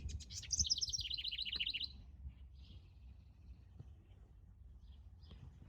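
A small bird sings a quick, bright trill of high chirps up close, followed by a few faint, scattered tweets in a quiet background.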